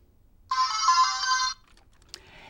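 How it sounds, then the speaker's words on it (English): A short electronic chime melody, the startup music of a LEGO Mindstorms NXT robot, plays alone from its speaker for about a second, bright and tonal, followed by a faint click. "When you turn on your robot, do you hear the startup music?"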